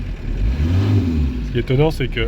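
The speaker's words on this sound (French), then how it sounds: "Mais bon, il a démarré. Je vais le faire chauffer un petit peu avant d'accélérer" A camping-car's engine idles low and steady as it warms up after a cold start, with someone talking in French over the rumble for the second half.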